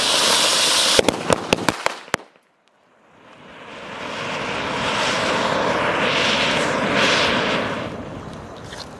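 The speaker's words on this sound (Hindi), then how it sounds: "अब जलाते हैं इस वाले रेड बिजली प्लस अनार के कॉम्बो को" Several sharp firecracker bangs in quick succession, then a brief quiet before a loud, steady hissing roar of an anar fountain firework that swells and lingers.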